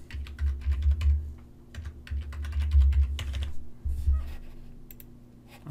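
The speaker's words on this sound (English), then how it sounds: "So you type that in." Typing on a computer keyboard while entering a username and password for a NeXGen Ethernet device, with quick irregular bursts of clicky keystrokes over a low steady hum, close to the microphone, with pauses between runs.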